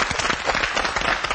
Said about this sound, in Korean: 응원의 박수 좀 보내주세요.